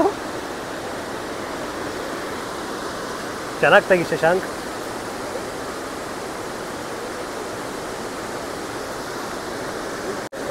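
Constant roar of rushing water from Bharachukki Falls, loud and unbroken, with a voice speaking briefly partway through.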